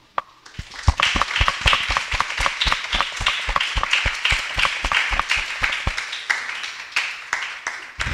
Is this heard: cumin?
no